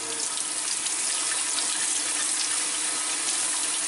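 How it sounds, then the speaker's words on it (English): Steady running tap water splashes into a sink as portabella mushrooms are rinsed, a continuous close gush that holds even and loud throughout with no pauses. "let's wash our mushrooms."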